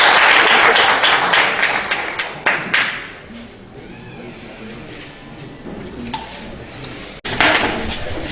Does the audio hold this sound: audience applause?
yes